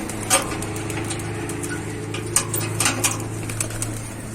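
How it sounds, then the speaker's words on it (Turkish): Pigeons released from a coop give soft coos and short bursts of wing flapping over a steady low engine-like hum. A few sharp flutters stand out near the middle of the clip. "Şimdi arkadaşlar sularını verdim. Yandan serptim. İlk güvercimi salalım."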